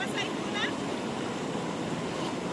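A flowing stream in Nueva Vizcaya, a steady broadband rush of water heard close and loud, with a few brief bird chirps over it.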